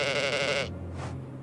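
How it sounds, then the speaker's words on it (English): A single drawn-out sheep bleat in a hidden-object puzzle game, close and clear, tapering off into quiet game ambience. "It's a sheep."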